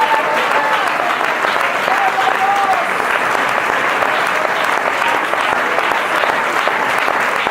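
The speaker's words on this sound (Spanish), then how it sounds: "Dele un aplauso a Jesús" Congregation in a Colombian Pentecostal church claps loudly and continuously for several seconds, a dense, sustained wash of hands with faint crowd voices mixed underneath.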